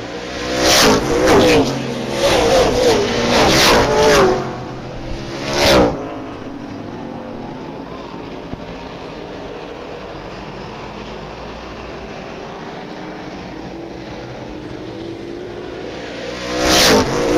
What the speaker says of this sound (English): Bauer still out front. VanWieringen and Huntley nose to tail, 2nd place.